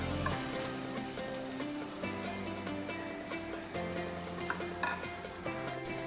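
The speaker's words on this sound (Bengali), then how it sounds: "এবার ভালো করে আলুটা ভেজে নেব।" Potatoes fry in a pan with softened onions and a pinch of salt, a steady close sizzle running throughout behind background music, with no talking.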